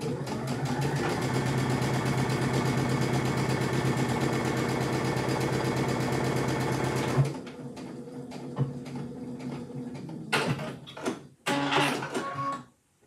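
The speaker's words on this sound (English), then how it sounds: "I'm just going to sew these with a 1/4 inch seam allowance." Sewing machine stitching two fabric pot holder pieces with a quarter-inch seam, a fast continuous mechanical whir for about seven seconds that stops abruptly, followed by quieter handling clicks and rustles.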